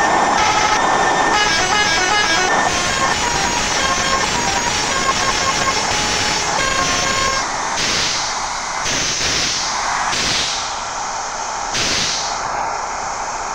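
A loud, blaring bus horn in a bus simulator video game, with a bright musical tone, sounds steadily for several seconds, then gives way to shorter repeated blasts over a busy, noisy background.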